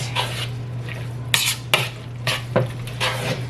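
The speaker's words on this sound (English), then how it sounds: "And then I just stir it to the consistency that I want it." Relish being stirred into a mixture for a HelloFresh meal, a spoon clinking and scraping against a bowl in several separate strokes over a steady background hum.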